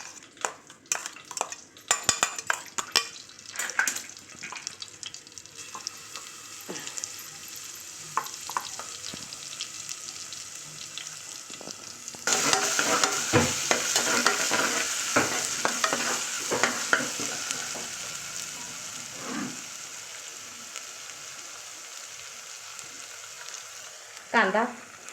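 Ginger-garlic paste frying in hot oil as a tempering for vegetable pulao, a steady close sizzle with bursts of spoon stirring and clinks against the pan, growing louder midway, no talking.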